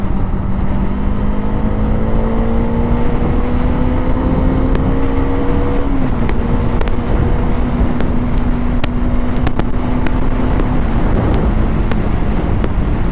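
A Bajaj Dominar power cruiser motorcycle accelerates on a highway to overtake a lorry, its engine note climbing steadily under heavy wind rush, shifting once midway and then pulling on at a high, loud drone.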